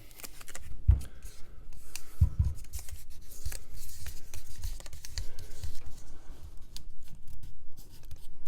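Excess material is trimmed off at the nut of a guitar neck during a build, giving soft scratchy cutting and rubbing sounds close up, with a few louder thumps early on and no talk.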